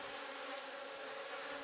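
Honeybees buzzing inside a hive around a newly emerged queen, a steady dense insect hum filling the space, close and continuous with no talking.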